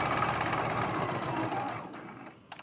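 A sewing machine stitches a hexagon mug rug at a rapid steady whir, running continuously up close before slowing and stopping with a few clicks at the end.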